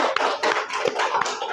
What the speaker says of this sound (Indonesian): tepuk tangan dong untuk kelompok 2